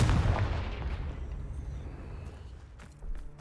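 A Confringo fire spell in the video game Hogwarts Legacy bursts with a deep, booming blast right at the start, then rumbles and fades, with a smaller thump near the end.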